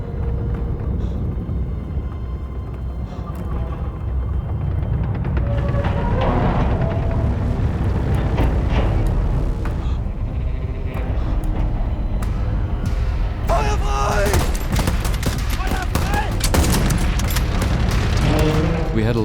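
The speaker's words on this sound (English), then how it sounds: "We had a lot of sounds from the tanks, from the bullets, from the explosions" Dense, loud World War I battle mix from a film, deep booms of explosions, tank rumble and rattling bursts of gunfire, continuous throughout, with voices buried in the din.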